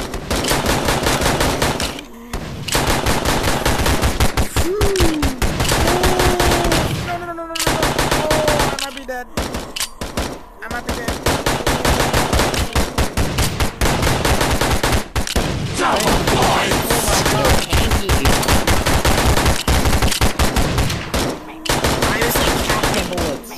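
Rapid automatic gunfire rattles almost without pause in a VRChat zombie survival game, loud and close, broken by a few short gaps, with brief speech and other game sounds mixed in.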